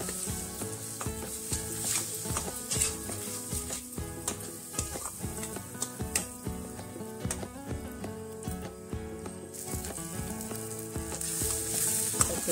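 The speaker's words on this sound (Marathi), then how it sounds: "ते तेलावर छान असा परतवून घेऊ" Ground masala paste being sautéed in hot oil for a gravy, a steady sizzle with frequent sharp scraping and tapping stirs of a spoon against the pan, close and moderately loud, with music playing underneath.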